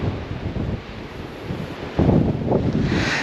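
Coastal wind buffets the microphone at Giant's Causeway in Northern Ireland, a loud steady rush that strengthens partway through, with faint surf noise underneath and no voices.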